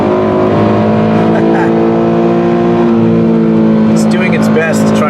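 A Toyota 86 engine held at high revs near its 7,500 rpm red line, a loud, steady, sustained drone with strong harmonics, running under someone talking throughout.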